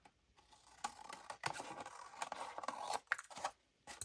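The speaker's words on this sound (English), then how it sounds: "I'm just going to cut around this." Scissors cut around paper for a junk journal, giving a close run of quiet crisp snips and paper rustles in short uneven bursts with brief pauses.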